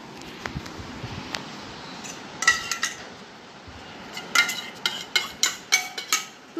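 Chopped white chocolate is stirred into fresh Amul cream in a bowl in a home kitchen, with light clinks and taps of a utensil against the bowl, sparse at first and then coming in quicker bursts.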